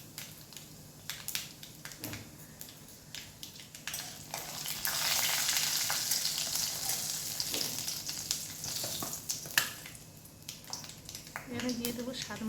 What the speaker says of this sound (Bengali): সামান্য 2-4টা জিরে ছড়িয়ে দিলাম।